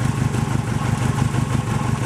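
A Toyota Corona ST141 engine idles close by with a steady, slightly fast, rhythmic low throb, an exhaust rattle and some shaking clatter. It runs alone with no voices.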